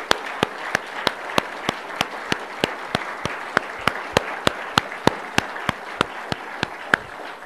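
Audience applause for Premier Chen, a steady rhythmic clapping with sharp, evenly spaced beats over a softer crowd wash, sustained without talk.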